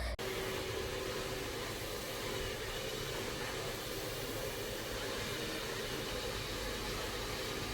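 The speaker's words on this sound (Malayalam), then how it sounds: "ഡ്രയർ വെച്ച് മുടി ഉണക്കുകയാണ് കേട്ടോ നല്ലോണം ഉണക്കുക" A hair dryer blows on freshly washed hair, switching on abruptly and then holding a loud, steady, even whoosh close by with no talking.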